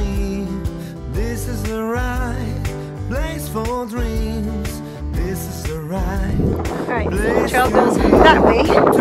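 Gusty wind on the West Fork Trail in Sedona, Arizona, on a cold morning, rumbling across the microphone beneath a person talking and swelling louder toward the end.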